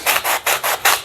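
Sandpaper rasping over a hand-sculpted glove puppet head, five steady back-and-forth strokes in an even rhythm, close and fairly loud with no talking.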